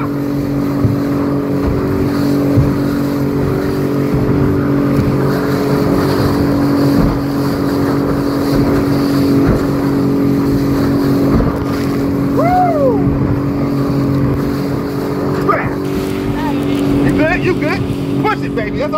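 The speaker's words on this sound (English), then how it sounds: "Speedboat, Cancun 2018 honeymoon excursions." Speedboat ride in Cancun, a loud steady motor drone with wind buffeting the microphone, heard close throughout with brief voices over the engine noise.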